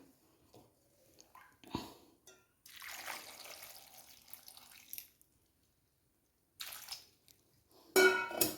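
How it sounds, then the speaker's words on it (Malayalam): Short bursts of water pouring and splashing into a cooking pot of yam, pumpkin and beans for erissery, with quiet gaps and a clunk between pours. "വേകാൻ ആവശ്യത്തിന് വെള്ളം ഒഴിച്ചു."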